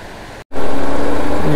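A loud, steady roar of fast-rushing river water beside the narrow Gilgit–Skardu mountain road in Pakistan, broken by a sudden brief dropout near the start before swelling back to full strength.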